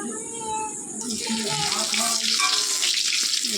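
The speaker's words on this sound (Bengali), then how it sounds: "তারপরে এই যে একটু তেজপাতা দিলাম।" Bay leaves dropped into a hot pan of oil with cumin, giving a steady broadband sizzle that swells and stays loud throughout, with faint kitchen clatter and no talk.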